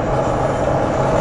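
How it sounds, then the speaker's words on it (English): A railway diesel engine train passes with a dense, steady roar that fills the whole short stretch, loud and close with a rumbling low end and no voices. "That's diesel. He's doing diesel. Railway diesel engine."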